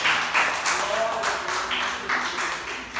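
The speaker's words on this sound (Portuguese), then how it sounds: "aplauda o nome de Jesus nessa noite" A church congregation claps during an evening family service, a steady moderate patter of many hands with voices mixed in.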